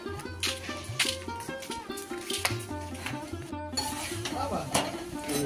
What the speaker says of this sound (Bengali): বাড়ি এসেই দেখি বোন পরোটা বানাচ্ছে, আর এই যে ডিম দিয়ে আলু ভাজা করছে